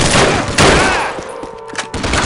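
Sharp bursts of rapid gunfire ring out as covering fire in Call of Duty, a World War II squad battle. The shots are loud, close and clustered into a short volley.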